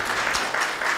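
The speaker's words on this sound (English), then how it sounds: "A warm round of applause." Audience applause at an opening ceremony, a dense, steady wash of many hands clapping throughout, loud and close, with no voices standing out.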